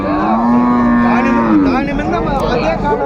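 A dairy cow at a cattle market moos loudly and close by, one long drawn-out low call that bends in pitch, followed by a rougher, breathier tail.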